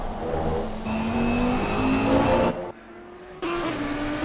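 Race car engine from the cockpit at the Red Bull Ring in Assetto Corsa Competizione, loud and close, revving through gear changes with a brief lift-off drop before pulling hard again.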